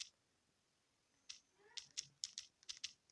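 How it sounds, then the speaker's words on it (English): Subtitle text being typed on a computer keyboard, heard as short bursts of quiet, uneven keystroke clicks that start after a brief pause and grow denser toward the end, with no talk. "So I'm just going to type that out now."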